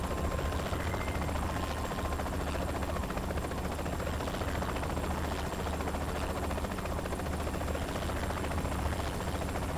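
A helicopter in Saints Row The Third Remastered flies low, its rotor throbbing in a loud, steady drone that stays constant throughout.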